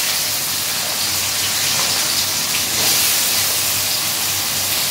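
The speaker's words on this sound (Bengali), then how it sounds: "আলু দিয়ে দিয়েছি সবকটা। এইভাবে ভেজে নেব।" Potato pieces frying in hot oil in a pan, a steady loud sizzle and hiss that holds evenly without pause.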